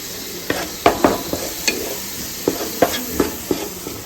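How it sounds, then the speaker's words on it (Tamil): Onions frying in a pan for Kerala beef gravy, a close hiss broken by a run of sharp stirring knocks and scrapes of a spoon against the pan, with no speech. "இப்போ நம்ம ஆனியன் போட்டு ஒரு 5 நிமிஷமாக வெந்துட்டுருக்கு."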